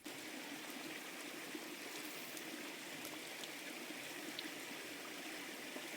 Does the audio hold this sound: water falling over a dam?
yes